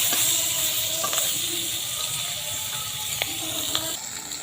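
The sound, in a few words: fish frying in oil in a pan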